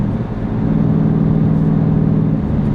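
A 2018 Dodge Challenger R/T Shaker gets a moderate push on the throttle. Its engine gives a loud, steady, deep rumble from inside the car for a few seconds, with no talk.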